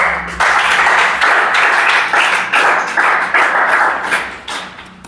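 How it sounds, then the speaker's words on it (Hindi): A class of students clapping together in a police recruitment coaching classroom: dense, steady applause that fills about five seconds, loud and close, fading slightly near the end. "ताली बजाओ"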